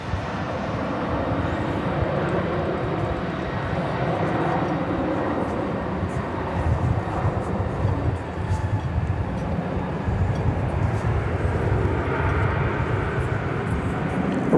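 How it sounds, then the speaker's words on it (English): An American Airlines 737-800 arrives at Dallas Fort Worth Airport with a continuous, moderately loud jet rumble and roar that holds steady throughout, with no voices. "Arriving there was American Flight 1803 from McAllen, Texas, 737-800."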